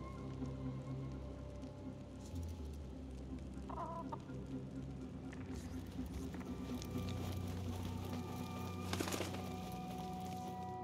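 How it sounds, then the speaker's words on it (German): Chickens cluck and a rooster crows in the video game Assassin's Creed Mirage. Scattered bird calls rise over a steady bed of game ambience and pattering background noise. "Sind das die Geräusche, die Hühner machen?"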